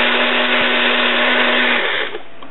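A blender whirs loudly and steadily, mixing a smoothie of strawberry low-fat yogurt and cran-apple juice with lemon juice. The motor hum runs up close and then winds down near the end, and no one talks.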